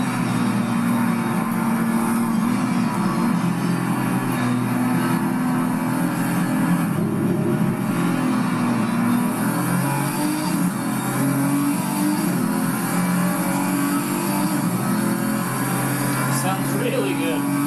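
The Nissan Z Proto races in the video game Project Cars 3 on PS5, its engine holding a loud, continuous hum with slight shifts in pitch throughout, while a voice talks over it.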